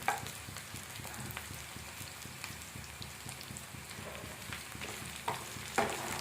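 Brinjal pieces fry in a pan with oil, giving a continuous soft sizzle and crackle, with occasional stirring clinks and scrapes over the top.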